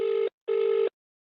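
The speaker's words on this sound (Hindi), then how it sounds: "सब बिजी यहाँ लागता है ना फोन ना उठावता है" Telephone busy signal: two steady tone bursts, each about a quarter-second to four-tenths of a second long, separated by a short silence, clear and alone.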